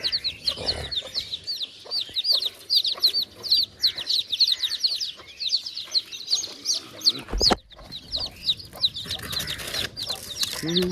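A desi hen clucks among her newly hatched chicks, whose rapid high peeping cheeps fill the scene close by, with soft clucks and occasional rustling.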